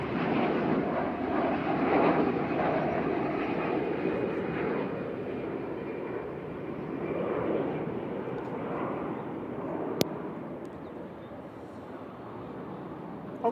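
A TUI airliner arriving from Corfu comes in to land at Manchester Airport, a broad steady engine roar holding at moderate distance throughout with a brief click near the end.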